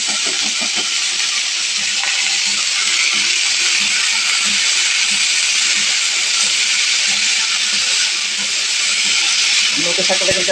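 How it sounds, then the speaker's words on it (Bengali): Garlic and nate shak greens fry in a pan with a loud, steady hiss that never lets up, close by, with faint low knocks beneath it. "নোটের শাকটা ভাজবো।"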